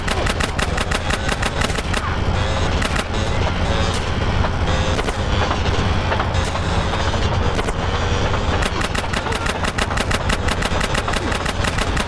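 Rapid automatic gunfire rattles almost nonstop during a train chase in GTA San Andreas, loud and close, with pauses midway and steady engine roar underneath.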